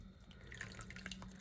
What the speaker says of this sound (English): I'm going to pour a cup of water